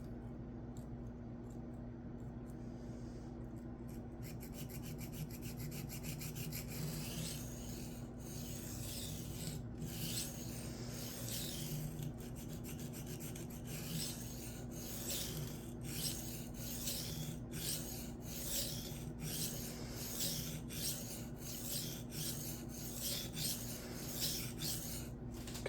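A Cold Steel Kudu Lite knife blade scrapes across a Shapton Glass 220 stone in quiet, rhythmic rasping strokes, close and steady with no talk.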